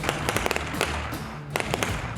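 Gunfire crackles during military urban combat training, rapid bursts of sharp reports in quick irregular clusters, a pause, then another burst, loud and close against a constant broadband background.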